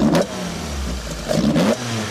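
A Toyota Sports 800 engine revs in two sharp bursts with audible intake sound, dropping back to a lumpy idle in between, close and loud with no talk.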